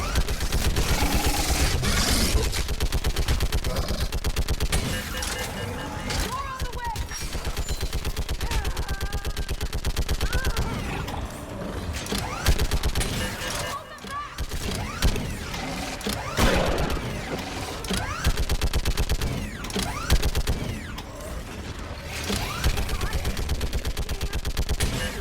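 A mounted gun in the Mass Effect 3 Legendary Edition video game fires in long rapid bursts, a dense, loud mechanical rattle that runs almost without pause, with a voice talking at times.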